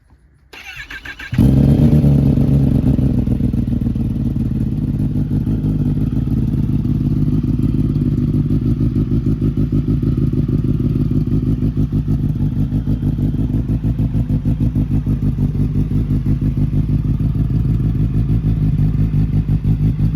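A Roll Race ZX10 motorcycle on a test ride, its engine starting up after a brief quiet moment and then running loud and steady with a constant throbbing drone close by, no voices.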